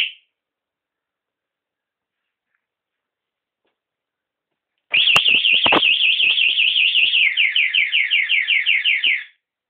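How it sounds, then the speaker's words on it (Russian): A scooter's aftermarket motorcycle alarm is armed and triggered, with silence until a loud, rapidly warbling electronic siren begins halfway through and wails steadily for about four seconds before cutting off abruptly. "Чем дольше скутер трогает, тем больше по времени работает сигнализация."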